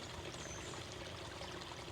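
A little stream running through a cypress forest, a faint, steady trickle and babble of flowing water with no voices.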